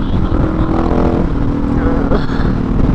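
A motorcycle engine droning and revving steadily during a wheelie on a group memorial ride across the Harbour Bridge, loud and close, with wind rush and other engines blending in.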